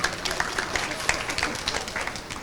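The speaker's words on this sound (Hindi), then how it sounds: "आपकी उन जोरदार सम्मान भरी तालियों के मध्य" Audience applause fills a hall during a spiritual talk event as a memento is presented: a continuous wash of many hands clapping, with a voice speaking over it.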